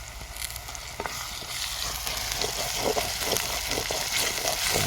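Tomato and green chilli fry in a pan with a steady crackling sizzle, while a spoon stirs through them in irregular scraping strokes that grow slightly busier toward the end; no one speaks.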